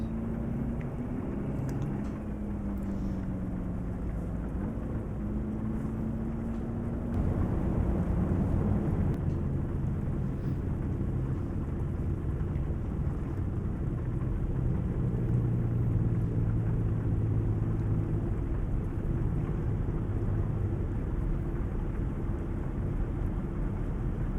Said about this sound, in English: Hopefully this rain will let up soon.